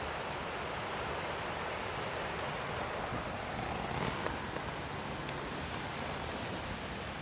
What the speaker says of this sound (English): I get to enjoy the river noise.